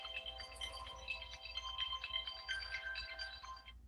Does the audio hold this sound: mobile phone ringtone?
yes